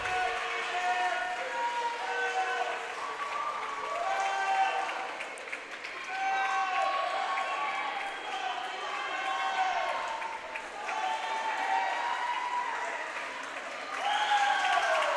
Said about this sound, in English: As the crowd cheers her on.